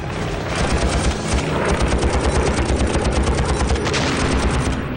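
Continuous rapid machine-gun fire from a fighter plane rattles loudly for several seconds over a roaring engine drone, the bursts blending into a dense, unbroken stutter.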